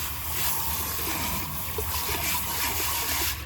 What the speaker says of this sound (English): I'm gonna spray it around just to clean the dirt off